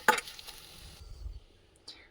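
Onions frying in oil in a pan for egg fried rice, stirred until golden brown: a sharp utensil scrape and clatter at the start, then faint sizzling and soft low rumbles, with a brief clink near the end.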